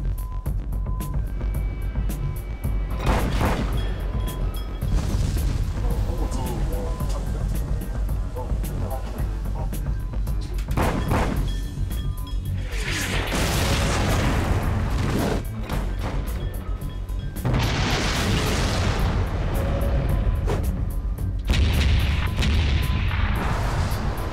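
Several heavy booms and blasts of shells hitting a destroyer strike in bursts, with broad crackling bursts of noise and low rumble between them, over steady background noise.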